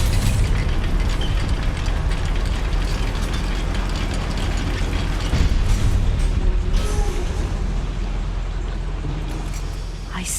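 A goblin mine lift mechanism in Hogwarts Legacy operates with a steady, dense grinding and clattering rumble of gears and ratchets that holds at an even loudness throughout.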